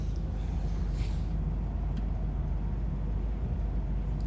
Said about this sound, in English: Your blower fan is working. I can hear it running.